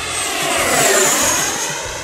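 An FMS FA-18F Super Hornet 70mm EDF radio-controlled jet makes a high-speed pass, giving a loud, steady rushing whine of the electric ducted fan that swells and eases slightly, with no talk.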